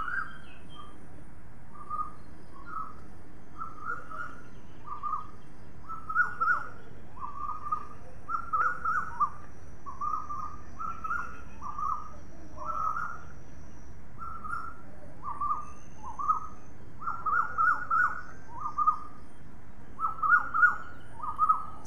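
Morning birdsong rings out in a steady string of short, clear whistled calls repeating at a lively pace, fairly close and alone over a soft, quiet background.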